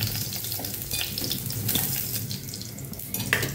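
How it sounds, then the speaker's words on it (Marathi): Paneer cubes frying in a pan until crisp, giving a steady, dense hiss and crackle that stays close and fairly even throughout, with a few sharper spits, and no voices. "पनीर असं क्रिस्पी होऊन द्यायचं थोडंसं जरा।"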